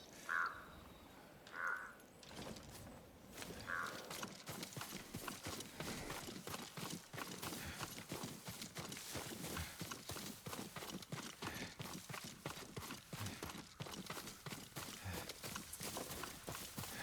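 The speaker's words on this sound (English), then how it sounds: "Yuriko's horse." Rhythmic hoofbeats of a horse in the video game Ghost of Tsushima, soft steady clip-clop carrying on for most of the stretch, with a few crow caws early on and a faint ambient bed.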